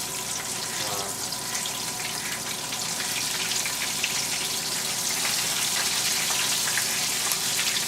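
Cuban empanadas fry in hot oil, a steady, dense sizzling hiss with fine crackles and pops that continues without a break, loud and close, with no talking.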